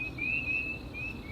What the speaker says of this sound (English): I can definitely hear the frogs croaking